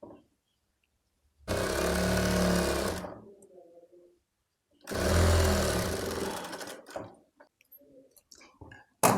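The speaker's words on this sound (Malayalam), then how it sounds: "എന്നിട്ട് ഇതേപോലെ നമുക്ക് സ്റ്റിച്ച് ചെയ്തെടുക്കാം" Stitching a baby's short top, a sewing machine runs in two loud steady bursts of a few seconds each, its motor whirring close by, separated by quiet handling of fabric.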